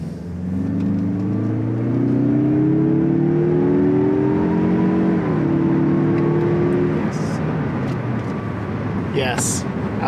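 2021 Mazda CX-30 with a 2.5-liter turbo engine accelerating from inside the cabin, engine note climbing steadily through a gear and then settling into road hum, with a person talking over it.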